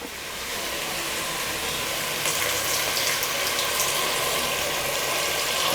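Steady running water pours continuously into a pot of mutton for kurma, a broad hissing splash that holds at an even level throughout with no voices.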